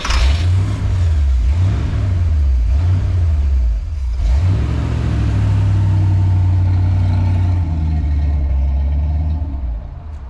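A 1976 Corvette, revived after sitting ten years, runs loud and close with a rough, throaty V8 rumble, revving in repeated swells before settling into a steady, high idle-like drone.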